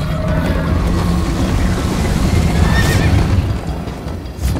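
Horse in the video game Minecraft: Story Mode, neighing and galloping over dense, loud rushing background noise, with a brief whinny about midway and no talking.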